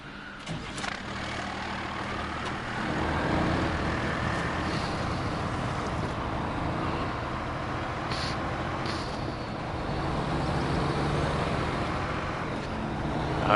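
An old Ford F750 cabover offroad truck engine in the SnowRunner video game starts and runs as a steady, low rumbling drone with wind-like noise, continuous and moderately loud throughout.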